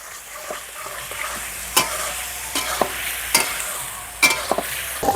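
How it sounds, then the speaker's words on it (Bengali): Mutton intestine curry in a karahi being stirred with salt and turmeric, a soft continuous sizzle broken by sharp spoon scrapes and taps against the metal at irregular intervals, close up with no talking. "ভালো করে লবণ আর হলুদ মিশিয়ে নেব"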